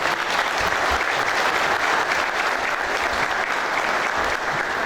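Strong, continuous applause from an audience at a regional port forum in Arroio do Sal, many hands clapping evenly at a constant loud level.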